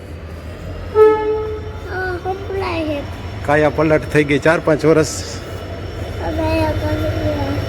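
A train approaching a station sounds its horn in several blasts, including a quick run of short toots, over steady rumble while a person talks nearby.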